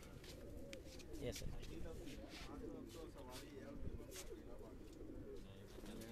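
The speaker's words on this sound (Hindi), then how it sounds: "ये कल्दू में कबूतर हैं," Pigeons on a rooftop coo softly at a distance under steady background noise, while someone talks briefly nearby.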